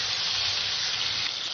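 Chopped tomato with a little salt frying in a pan for a vegetarian chana dal, producing a steady, close, unbroken sizzle.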